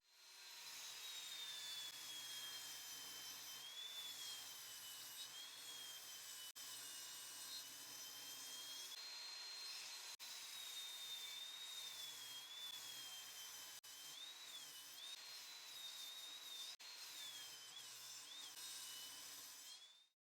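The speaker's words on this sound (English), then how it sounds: "On the table saw, I squared the pieces and trimmed both sides." Table saw cutting and squaring wood pieces, a continuous high whining blade tone that wavers in pitch as the wood feeds through, loud and steady for about twenty seconds with no talk.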